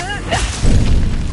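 A Levioso spell cast in Hogwarts Legacy gives a short whooshing swish that ends in a dull thump. It is close and fairly loud, with a faint voice underneath.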